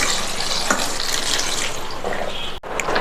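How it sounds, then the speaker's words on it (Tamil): Cold tap water runs steadily over drained pasta in a strainer, a continuous close splashing hiss with a brief break near the end. "இதில் சில்லுன்னு உள்ள தண்ணியை இது மாதிரி விட்டுட்டு மறுபடியும் நல்லா வடிகட்டிக்கணும்"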